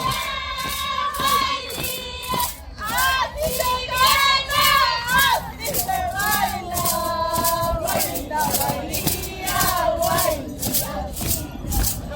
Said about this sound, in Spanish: El aplauso fuerte para doctora Oropesa